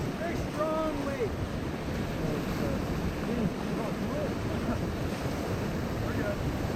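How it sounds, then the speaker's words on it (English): A strong hydraulic wave churns on a whitewater river in West Virginia during a rafting trip, a loud continuous roar of rushing water and wind noise with faint distant shouts mixed in. "That's one of those hydraulic waves. It's a very strong wave."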